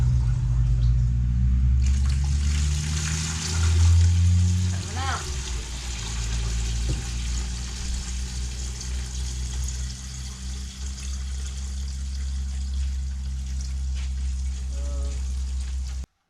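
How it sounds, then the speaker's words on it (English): Couple of buckets of water poured down a washer drain in a skoolie bus conversion's plumbing, a steady rushing gush with a louder surge early on, close up and continuous without talk. "we're just gonna drop a couple of buckets of water down there and see if it drains with no leaks"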